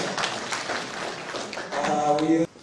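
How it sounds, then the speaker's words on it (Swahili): Gathering in Kajiado applauding a participant named Kalkuleta, with clapping of moderate loudness lasting a couple of seconds, other sounds layered over it, then cutting off abruptly. "Makofi kwa Kalkuleta."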